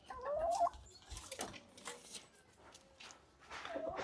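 A fairly large hen gives a short clucking call near the start, followed by quieter scattered rustles and faint fowl sounds close by.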